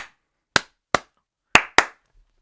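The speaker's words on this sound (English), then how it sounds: "Clapping." Four sharp hand claps in a rhythmic pattern, close and dry, the last two coming quicker together, with silence between and no voices.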